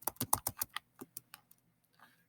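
Typing on a computer keyboard while filling spreadsheet cells: a quick burst of close, crisp key clicks, then slower scattered taps that fade into quiet.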